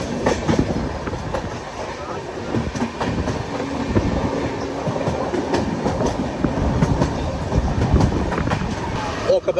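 The Howrah-Kanyakumari Superfast Express runs at speed, heard from on board as a loud, steady rumble with rhythmic clickety-clack of wheels over rail joints that carries on throughout.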